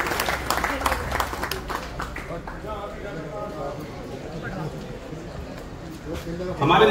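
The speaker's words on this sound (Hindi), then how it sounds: "जोरदार ताली से स्वागत करें" Applause welcoming a guest onto a stage at an Indian public gathering, a short flurry of clapping at the start that fades under someone speaking into a microphone, with a loud burst at the end.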